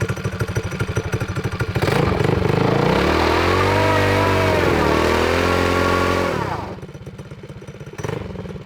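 A rebuilt MB-200 mini bike engine with a repaired broken crankshaft revs hard and steadily for several seconds on a test run, loud and close, then drops back to a rough idle before a short blip.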